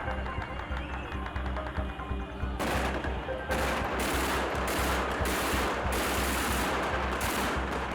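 Bursts of gunfire ring out at an evening street gathering in Hama, Syria, as shots are fired at a burning poster, rapid loud cracks over a steady hum of crowd and background noise.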